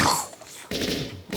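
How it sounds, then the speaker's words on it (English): Bursts of gunfire from a scene in The Crow, a sharp broadband volley at the start and another burst partway through, with voices mixed in the background. "Mad gunfire."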